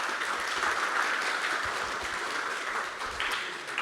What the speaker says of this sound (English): could we all give our panelists a round of applause